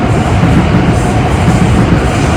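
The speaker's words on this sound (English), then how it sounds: "Now, just wait for that train." A train passes very close to an outdoor Pilates class, a loud, continuous roaring rumble of rolling wheels and rushing air that drowns out everything else for the full length.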